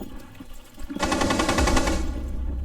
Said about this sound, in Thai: ปืนลั่นปืนลั่น